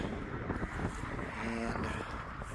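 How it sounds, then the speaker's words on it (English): Outdoor wind gusts buffet the microphone in a broad, rough roar that swells and eases unevenly, with a brief faint tonal hum in the middle. "just trying to show a good amount of wind gusts we're getting"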